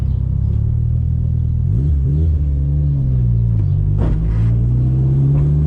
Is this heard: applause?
no